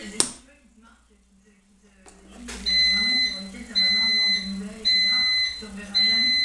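A washing machine signalling the end of its wash cycle with a repeated series of high electronic beeps in regular pulses, heard from another room under someone talking.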